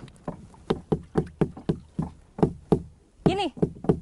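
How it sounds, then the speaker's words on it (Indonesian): Wooden stick rapped against the hull of a small boat on the sea at Banggai to call jellyfish, a rapid series of sharp close knocks in steady rhythm, with a brief voice near the end. "Kita ketok-ketokkan kayu ke perahu dan dengan suara itu nanti mereka akan bermunculan."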